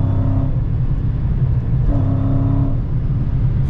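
A Dodge Challenger Scat Pack's Hemi V8 drones steadily from inside the car, holding a loud, continuous engine tone with a slight swell midway.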